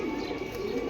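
Pigeons at a seller's loft coo in a low, steady murmur, a brief continuous burble with no voices over it.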